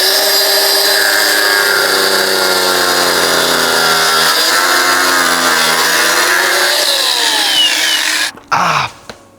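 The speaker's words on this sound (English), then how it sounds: "So I've got to trim this bit off here for the new seat because it bolts on right where this bit sits." A loud, high whining power tool cuts through plastic on a stock Yamaha YZ250 motocross bike, its pitch wavering as it trims steadily for several seconds before stopping abruptly, followed by a couple of short clatters.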